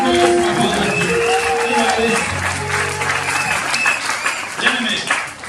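A church congregation claps and cheers together in a sustained wash of applause, with voices and tonal sounds running underneath.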